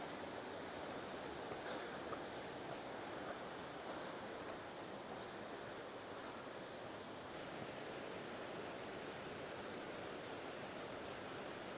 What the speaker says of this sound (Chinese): 从这边可以依稀的听到瀑布的声音